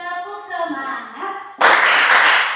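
A classroom of students doing a spirit clap, breaking into a burst of loud, dense group clapping after a teacher's voice speaks, sustained until the end.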